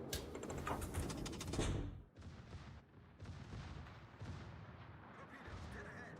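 Naval gunfire from World of Warships, warship batteries shooting high-explosive shells, a dense run of booming salvos up front that break into separated thumping blasts, with a voice talking over the battle.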